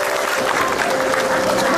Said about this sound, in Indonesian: tepuk tangan dulu tuh Akbar